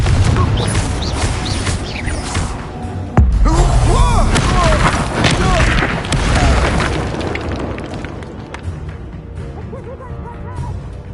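Confringo fire spells exploding during a duel in the video game Hogwarts Legacy: loud, booming blasts with crackling bursts and swirling magical effects, the heaviest impact about a third of the way through, then a rumbling fade.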